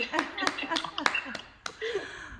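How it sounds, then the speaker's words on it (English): Several people clap over an online video call, a handful of sharp, uneven claps spread across a couple of seconds, with voices cheering and talking between them. "I want all of you just unmute yourself and clap for him"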